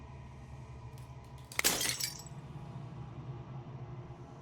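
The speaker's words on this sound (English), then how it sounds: "The final fragment of glass shatters." Glass shatters in the video game Slay the Princess: a single bright, sharp burst of breaking fragments with a short tinkling tail over a low ambient drone, with no voices.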